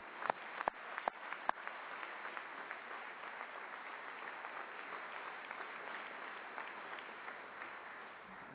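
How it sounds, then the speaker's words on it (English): Applause from an audience at a Thayer School engineering investiture ceremony, a few sharp initial claps swelling into steady, fairly faint clapping that fills the hall continuously. "So join me in a round of applause."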